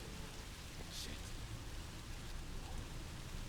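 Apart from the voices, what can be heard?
rain falling in the video game Song of Horror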